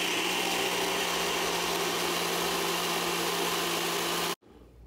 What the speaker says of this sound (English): so see how fast that blended up?